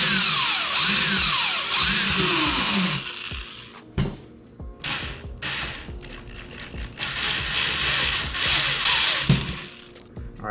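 A power drill bores a hole through a heavy-duty Calcutta bamboo pole for a fishing gaff, whirring in close bursts that start, stop and restart with short pauses between.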